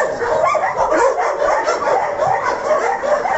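A group of dogs in cold weather outdoors, barking, yipping and whimpering continuously in a dense, loud chorus, close by.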